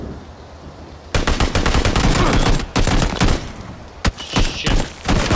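Sustained automatic gunfire in PlayerUnknown's Battlegrounds, loud and dense after a quiet opening second, with rapid overlapping shots that continue almost without pause and a sharp crack standing out near the end.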